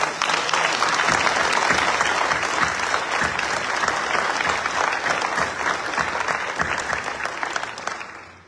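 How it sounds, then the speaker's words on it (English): Audience at a military family scholarship award ceremony gives a steady, sustained round of applause, dense clapping from many hands that fades out at the end. "Can we give them a huge Texas round of applause?"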